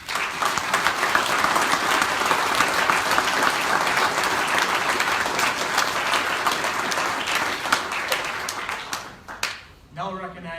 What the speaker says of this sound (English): Please join me in giving those guys a round of applause.